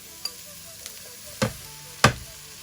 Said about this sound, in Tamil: இதை நான் இப்போ மிக்ஸ் பண்ண போகிறேன்.